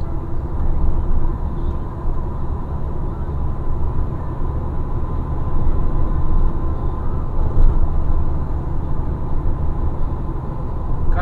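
A truck labors uphill on a ring road in Montes Claros, its deep engine drone loud and steady with rumbling low-end throughout, no voices over it.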